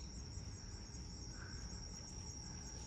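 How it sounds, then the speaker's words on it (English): Grasshoppers or crickets chirp at night in Kyoto's Gion district. The high, continuous insect trill is faint and steady, set against a low background hum. "I feel like there's no cicada sound anymore. It's sort of changing to grasshoppers."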